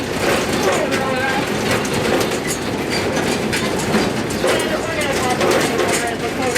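A tour tram at Turpentine Creek Wildlife Refuge rumbles along steadily with a continuous rattle and clatter. Voices talk underneath the loud, constant ride noise.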